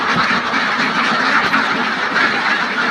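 A flock of ducks quacking continuously and loudly at close range, a dense overlapping chorus of calls, with no talking.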